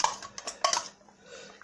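A whisk clatters against a bowl while mixing a tandoori chicken tikka marinade, giving a quick series of close, bright metallic clinks and scrapes with no talking.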